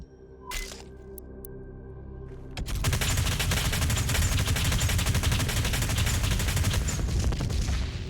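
Micro missiles firing in Doom Eternal: a brief electronic blip, then a dense, continuous stream of rapid launches and blasts that stays loud and steady to the end.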